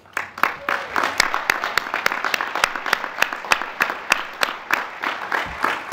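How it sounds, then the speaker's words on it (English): Audience applause at a Harvard Business School class day ceremony, with steady close clapping from a crowd lasting throughout, without speech over it. "Section presidents and section leadership deserve a round of applause for everything that they've done to make this community"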